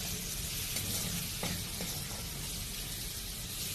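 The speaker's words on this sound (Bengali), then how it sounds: "দেখো ঝিঙে ভাজছি।" Ridge gourd slices fry in a pan with a steady, soft broadband sizzle that holds evenly throughout, with a few faint clinks or stirs; no voices.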